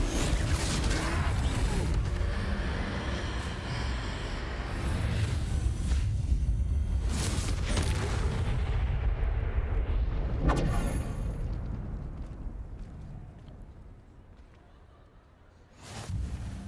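Confringo fire spell explosion in the Hogwarts Legacy video game during a troll fight, a loud rumbling blast with crackling debris and a mechanical creak, followed by fading ambience and a final thump.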